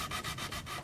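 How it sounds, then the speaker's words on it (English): Sandpaper rubs back and forth across a cosplay prop for the Colonel Stars and Stripes costume in a prop shop, a close, steady rasping in about four even strokes. "But we're sanding, and we'll just keep on"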